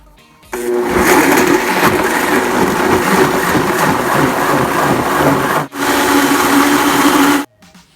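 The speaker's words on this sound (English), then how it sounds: "I blended it in my Blendtec blender" A Blendtec blender blends a smoothie, its motor roaring loud and steady for several seconds, then cutting out for a moment and starting again before it stops abruptly.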